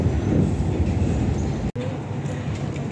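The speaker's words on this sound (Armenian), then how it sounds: "Այս սիրում գենտում տրամվայների ձայնը" Trams rolling through the city streets of Ghent, a steady loud low rumble of rail traffic with a brief dropout near the middle before the rumble resumes.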